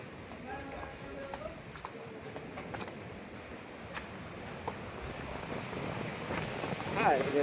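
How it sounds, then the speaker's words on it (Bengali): Strong storm wind roars steadily with broadband gusts and rumble, building louder near the end, while people shout over it in a panicked outdoor scene. "তুফান আইতেছে, তুফান।"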